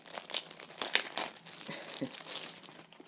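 Crinkly plastic packaging of an F1 All-Stars game being unwrapped, close and fairly quiet, with irregular bursts of crackling and rustling that continue throughout, plus a few soft thumps.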